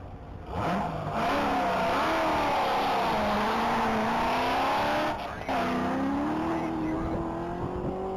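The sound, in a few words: race car on track at Texas Mile top speed event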